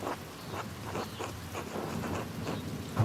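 Steady rain falls in the medieval adventure game Pentiment, a soft continuous hiss with faint patter and no voices, holding an even level throughout.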